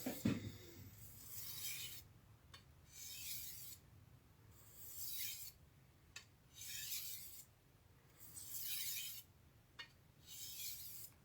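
A knife is being polished and deburred on a fine whetstone, with slow separate scraping passes that rise and fall in bursts of a second or so, soft and close, with pauses between strokes.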